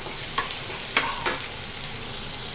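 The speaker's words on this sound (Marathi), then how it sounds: "तर चांगलं भाजून घ्यायचा कांदा" Two finely chopped onions sizzle in a pan, a continuous bright frying hiss close by, broken by a few quick stirring scrapes.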